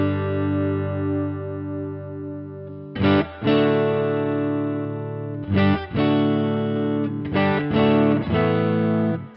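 Electric guitar through a Two-Rock Classic Reverb amp with the deep switch engaged plays a long sustained chord, then several strummed chords separated by brief gaps, full and warm with a slightly driven edge.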